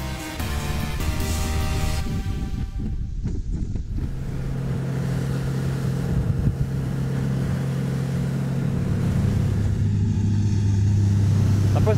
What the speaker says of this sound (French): la coque se positionne dans l'assiette à seulement 13 nœuds à 3500 tours moteur